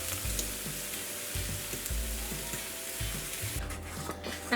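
Boiled potatoes being smashed with a fork in a hot pan with aromatics, sizzling and frying steadily with repeated low thuds and scrapes as the fork presses down.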